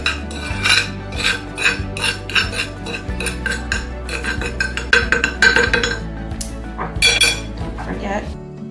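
A utensil scraping and clinking against a dish while cinnamon and sugar are mixed for coating fried tortillas, giving repeated close taps and scrapes with soft music underneath.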